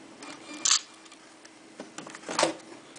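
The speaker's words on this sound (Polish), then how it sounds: "Cyknijmy sobie jakieś zdjęcie." A couple of small mechanical clicks and whirs of a Nikon Coolpix L110 camera shutter and lens, sharp and close, separated by a quiet pause.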